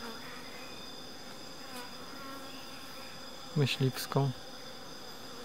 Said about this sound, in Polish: Pełno pszczół tutaj.